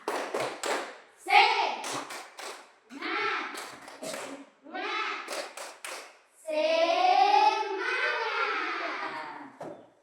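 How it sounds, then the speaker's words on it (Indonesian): A classroom group performs a rhythmic spirit-clap routine, short bursts of patterned clapping broken by pauses, ending with a long sustained group chant of children's voices. "Tepuk semangat"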